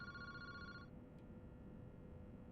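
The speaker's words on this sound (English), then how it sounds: "Boss, the phone's ringing." In the video game Paranormasight, a telephone rings with a bright electronic trill that stops after about a second, leaving a low room hum and one faint click.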